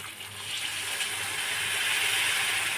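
Water poured into a pan of cooking brinjal curry, a steady rushing hiss that swells slightly and continues without pause, close and fairly loud.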